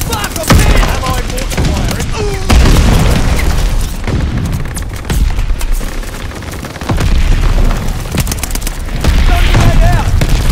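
Mortar fire and explosions in a multiplayer shooter match, loud booming blasts and bursts of gunfire crowding the whole stretch with little letup.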